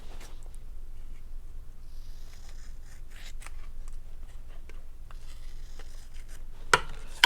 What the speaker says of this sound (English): I'm going to have to cut this tape off.